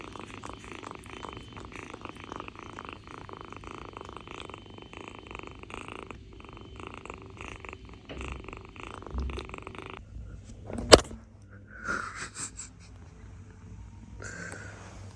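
A kitten purrs steadily while held and cradled in someone's arms, a soft continuous rumble close by, with a brief sharp knock and some faint shuffling near the end.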